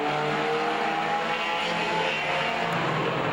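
Racing trucks in a Midwest Truck Tour race roar through a corner in single file, a loud continuous mix of engine drone with shifting pitch, close and unbroken throughout.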